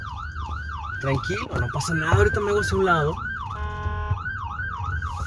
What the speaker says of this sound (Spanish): Aquí está la ambulancia.